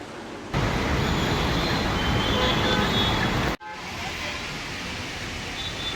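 Road traffic rumbles at a roadside pickup point during heavy afternoon congestion, a dense steady roar of passing vehicles with a brief break before the wash resumes slightly quieter, close and loud.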